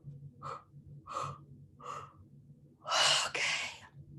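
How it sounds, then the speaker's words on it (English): Deep breaths in and out from a group, three short inhales followed by a long, loud exhale, close and clear over a faint low hum. "And put your hands on your heart and breathe it in."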